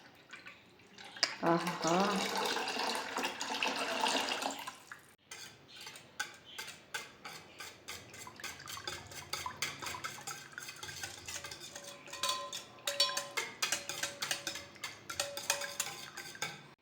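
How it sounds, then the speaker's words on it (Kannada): Buttermilk poured into cooled ragi porridge, a loud splashing gush for about four seconds, then spoon stirring and clinks against the pot, with a brief spoken exclamation. "ಈಗ ಮಜ್ಜಿಗೆ ಹಾಕ್ಕೊಳ್ತಾ ಇದ್ದೀನಿ."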